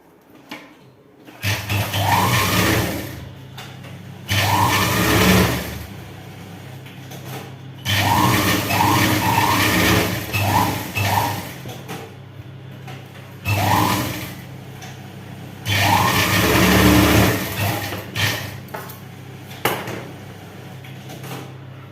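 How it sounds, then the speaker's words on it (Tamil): A sewing machine runs in bursts stitching a chudidar seam, several steady whirring runs of a few seconds each separated by short pauses, close and alone. "நம்ம இதில் இன்னொரு தையல் போட்டுக்கலாம்."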